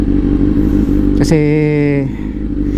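A Kawasaki Z900 motorcycle idling and being ridden to test its fuel filter and fuel pump, a steady close engine drone with a brief rising whine in the middle, while someone speaks a word over it.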